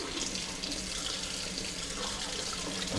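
Hot water gushes steadily from a tap into a bucket, a continuous close, bright splashing rush with no talking.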